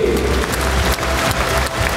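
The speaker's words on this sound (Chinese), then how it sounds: "我们给洛杉矶的代表热烈掌声鼓励" Applause from a large audience at a religious gathering in Taipei Arena welcoming delegates from Los Angeles, a dense, steady, roomy roar of clapping with faint crowd noise.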